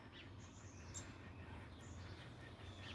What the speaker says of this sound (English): You'll hear the birds in the background.